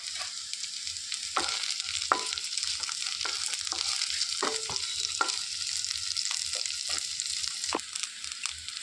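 Vegetables with green chillies, curry leaves and beans being stir-fried for a Hyderabad-style veg dum biryani, a continuous sizzle under scattered scraping and clinking of a spatula against the pan, close and fairly loud.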